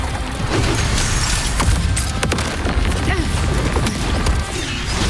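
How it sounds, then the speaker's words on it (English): Mortar shells exploding in the video game Wuthering Waves, several sharp crashing booms and thuds in quick succession over a dense, loud bed of battle noise and music, with no clear talk. "Another mortar thrown at us."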